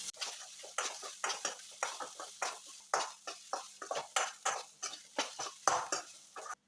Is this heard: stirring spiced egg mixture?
yes